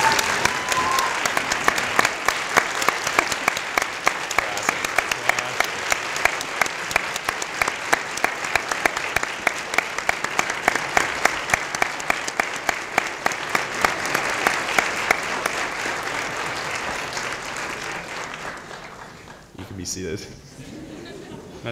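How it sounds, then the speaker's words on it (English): Veterinary students at a white coat ceremony give a long, dense round of applause filling a large hall, steady and loud before tapering off near the end. "give a round of applause to those who deserve it most"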